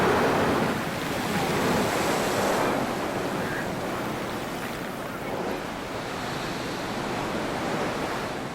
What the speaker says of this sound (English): Particularly high waves of surf push water fountains up through holes in the rock.